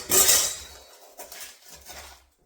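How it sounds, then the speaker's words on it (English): Dry ingredients being stirred into an apple pie filling, with a burst of clinking utensil against bowl at the start, then softer intermittent scraping and tapping. "Now we put our dry ingredients on top of the pie filling and mix it all together."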